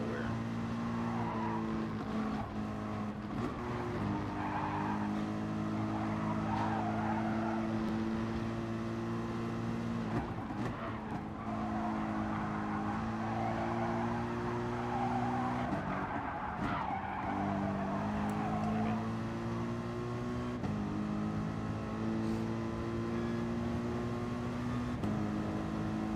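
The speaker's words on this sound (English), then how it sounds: "It's definitely far more comfortable to drive this car." A car in a video game revs and skids, its engine droning steadily with shifting pitch while tires squeal through several slides, loud and continuous with no talking.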